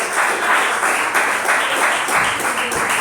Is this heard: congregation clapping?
yes